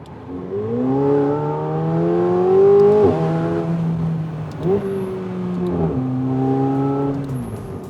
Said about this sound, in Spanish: al abrir este techo nos permite escuchar con toda plenitud el sonido de este magnífico motor V8